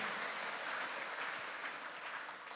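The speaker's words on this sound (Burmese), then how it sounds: "လက်ခုပ်တီးလက်ဂုံပြုပေးရအောင်" A church congregation claps together during a sermon, giving steady, dense and fairly loud applause that holds evenly throughout and eases slightly at the end, with no voices standing out.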